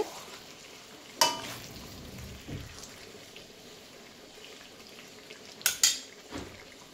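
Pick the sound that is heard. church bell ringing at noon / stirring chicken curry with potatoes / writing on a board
stirring chicken curry with potatoes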